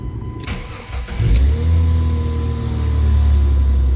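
A Jeep Grand Cherokee engine, just fitted with a power steering pump, cranks briefly, catches, and settles into a loud, steady idle close by.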